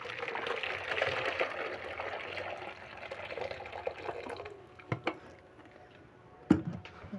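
Hot water pouring steadily for pickling turnips in a home kitchen, a continuous splashing flow that stops near the end, followed by a couple of sharp clinks.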